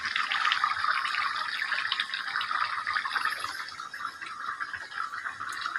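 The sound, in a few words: pouring fish curry broth with potatoes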